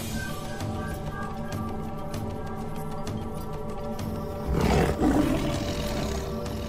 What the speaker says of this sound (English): The deep rumble of a lion's roar can be heard 8 kilometers away.